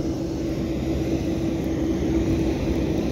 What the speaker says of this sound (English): It's been my first time in the Philippines to fly in a little small turboprop.